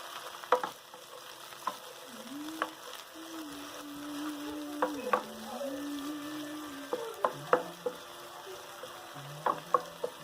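Vegetables frying in a pan for a vegan everything pizza, gently sizzling while a utensil stirs and taps against the pan in scattered clicks, with a faint tonal hum underneath.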